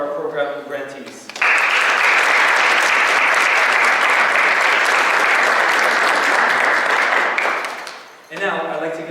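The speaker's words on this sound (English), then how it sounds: "One round of applause for our program grantees." A loud, sustained round of applause from an audience honoring program grantees at an embassy event, beginning abruptly after a speaking voice and tapering off as speech resumes.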